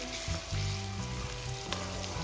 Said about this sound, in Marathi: आता आपल्याला हिरवी मिरचीचा कच्चापणा जाईपर्यंत परतून घ्यायचा आहे